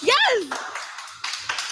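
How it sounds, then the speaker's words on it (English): An audience claps in a short burst of applause right after a voice speaks, the clapping continuing in uneven bursts. "Well, clap it up for them again."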